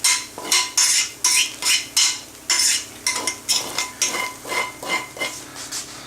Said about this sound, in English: Scraping that all off the bottom